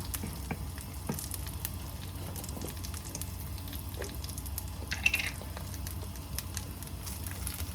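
Bitter gourd kuzhambu simmering in a pan as tamarind water is stirred in, giving a soft steady sizzle and bubbling with faint scattered drips and clinks, no talking.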